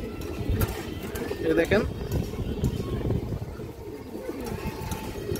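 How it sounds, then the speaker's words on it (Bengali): A breeding pair of pigeons coos in a loft, low repeated calls running steadily beneath a man's close speech, with scattered rustling and background noise. "যে দেখেন আপনারা কবুতরটা দেখেন, ডাকা ডাকি ফুল অ্যাক্টিভ আছে একবারে"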